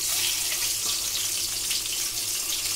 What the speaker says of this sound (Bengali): ডিমের কারি বানানোর জন্য আগে ডিমটাকে আমি ভালো করে ভেজে নিচ্ছি